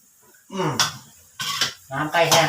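Braised pork leg is stir-fried dry with southern Thai curry paste, with a metal spatula clanking and scraping loudly against the pan in three close bursts.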